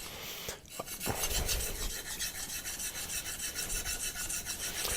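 A convex knife with a shinogi line is drawn across a Naniwa diamond whetstone, giving a steady, close scraping rasp that repeats in even strokes for several seconds, with no voices.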